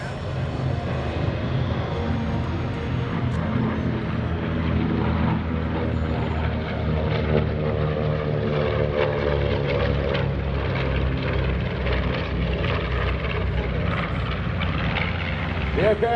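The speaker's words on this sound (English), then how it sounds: "history comes in from the left, the B-25 Mitchell" A B-25 Mitchell bomber makes a flyby at a military base open house airshow, its piston propeller engines droning loud and steady as it passes, with a slight pitch shift. A commentator's voice talks over the engines.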